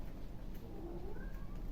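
A pet cat gives a faint, drawn-out meow in a quiet room during a home cross-stitch session, soft and somewhat distant over a low background hum.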